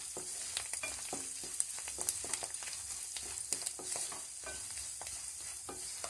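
Coriander and curry leaves frying in hot oil in a pan for a tamarind rice dish: a steady, bright sizzle with frequent stirring scrapes and crackles, close and continuous, with no talking.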